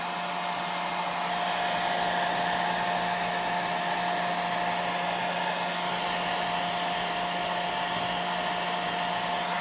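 A hair dryer blows steadily to dry paint on a hand-carved wooden face, a loud continuous whooshing hum with a constant motor whine and no pauses or speech.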